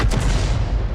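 A 105 leFH18B2 artillery gun fires in a video game battle, a single loud boom with a rumbling low tail that fills the short moment.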